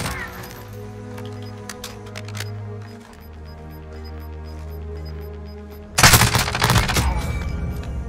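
Gunfire in a video game: a sudden burst of sharp, rapid cracking shots near the end, loud and close, preceded by sustained electronic game tones.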